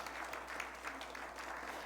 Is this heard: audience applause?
yes